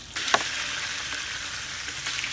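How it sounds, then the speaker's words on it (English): Chicken and other meats fry in a paella pan set over an open fire, giving a steady, moderately loud sizzle with a sharp crackle near the start and a few faint pops later, with no talking. "The first step is actually to fry the meats."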